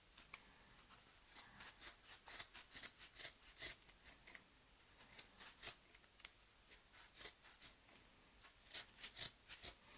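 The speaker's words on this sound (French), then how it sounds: "prendre des ciseaux à tissu, c'est pas la meilleure des idées." Fabric scissors snip through yarn for a homemade pompom in a quick, irregular series of close, crisp cuts, each with a sharp metallic shearing sound, against an otherwise quiet background.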